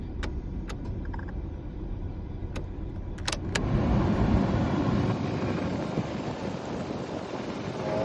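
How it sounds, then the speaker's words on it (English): A 1998 Ford Ranger pickup idling with a low engine rumble, a few clicks, then a louder whoosh as the air conditioning compressor engages and the blower picks up. "I'll stop talking and you can hear the AC compressor kick"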